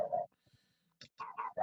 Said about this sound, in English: Your dog is crazy.